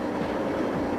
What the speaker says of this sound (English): Sadly, all she was capable of was a rumbling 10 miles per hour down the prom.